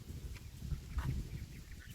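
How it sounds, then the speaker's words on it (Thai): Ducks near a Thai canal where they are fed give a few short honking quacks over steady outdoor wind and rustling, brief calls rising around the middle of the clip. "เป็ดกาบกาบ"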